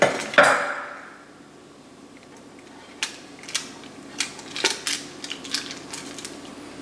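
A pan of chicken wings and mini potatoes slid into an oven: a sharp metallic clank at the start, a quiet pause, then a series of light clicks and taps from the oven rack and door.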